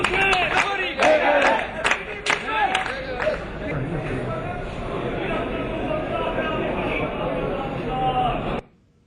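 Crowd of protesters chanting slogans in rhythmic bursts with clapping and shouting, a loud, dense hubbub of many voices throughout that cuts off abruptly at the end.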